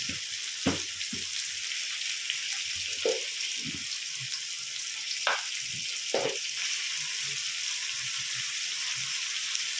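Tomatoes cooking with salt in a pan over a low gas flame give a soft, steady sizzle throughout, with a few sharp clicks and light stirring knocks scattered through it.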